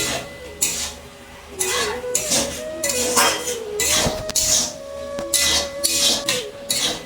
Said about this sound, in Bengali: লাউটাকে একটু ঢাকা দিয়ে দিচ্ছি।